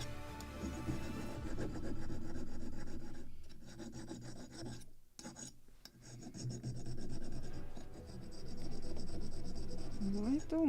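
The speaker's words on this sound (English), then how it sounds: "Little more to sand on this side." A sanding block rasps back and forth over a wooden part of a 1776 gunboat Philadelphia model ship kit, steady close scraping strokes with brief pauses, and a voice speaks faintly near the end.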